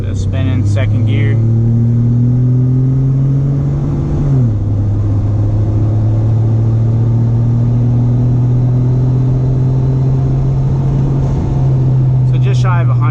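A tuned Ford F150 EcoBoost truck accelerates hard from inside the cab, its loud engine drone climbing steadily through the gears, with a brief dip at a shift, then holding a strong, sustained roar.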